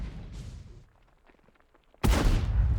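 A tank gun fires in a tank video game, a sudden heavy boom that bursts in loudly after a quieter stretch of engine rumble and distant battle noise.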